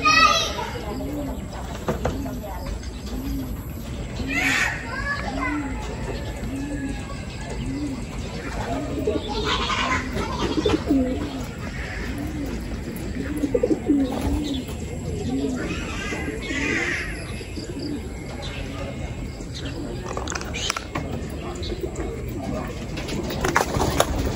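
Racing pigeons cooing in a steady, rhythmic low warble close by, with occasional wing flutters as birds take off, while people talk in the background.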